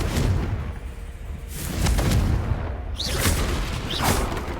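A Confringo blasting spell goes off repeatedly in Hogwarts Legacy, loud booming bursts with fiery whooshes following one another over a steady rumble of combat, with no talking.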